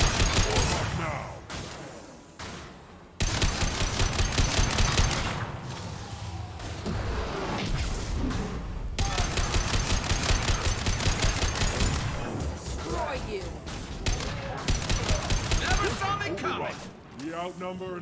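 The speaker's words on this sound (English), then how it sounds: "Concentrate fire." A video game squad firing together, loud bursts of automatic gunfire and impacts mixed with voices issuing orders, sustained with brief pauses.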